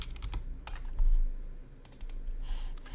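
Quick light keystrokes on a computer keyboard typing a short word, a handful of soft clicks in a brief burst over quiet room hum.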